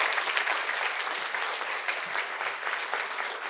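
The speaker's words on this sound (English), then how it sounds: "I'm going to keep you clapping for a bit." A conference audience claps steadily and continuously, the dense broadband patter holding near and loud throughout with no talk over it.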